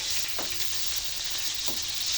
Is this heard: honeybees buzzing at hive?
no